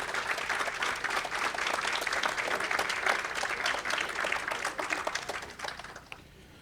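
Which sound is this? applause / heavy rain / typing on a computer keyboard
applause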